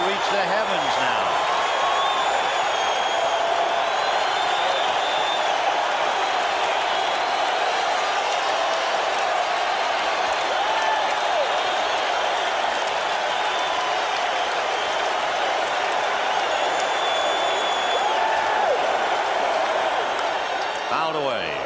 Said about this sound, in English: And this crowd is really ready to reach the heavens now.